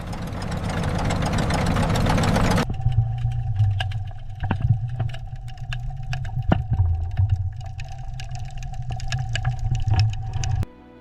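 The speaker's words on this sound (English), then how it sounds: "A 2-stroke piston engine, screw shafts, and 2 counter-rotating screws." A two-stroke piston engine of a Japanese Kaiten human torpedo runs steadily with a low, rough idle and irregular knocks and rattles, preceded by a loud rushing burst at the start and cutting off abruptly at the end.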